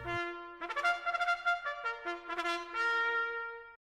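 A bugle plays first call alone and clearly, a quick run of bright, brassy notes rising and falling in short phrases and ending on a held tone.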